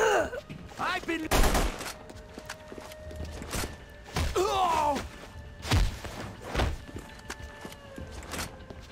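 Bursts of gunfire and sharp impacts punctuate a noisy action scene in The Punisher video game, set in a meat packing plant, with several loud shots spread across the clip amid shouted voices and thuds.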